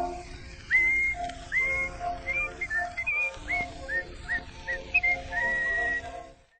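Someone whistles a lively tune in short rising and falling phrases, clear and close, with faint musical accompaniment underneath.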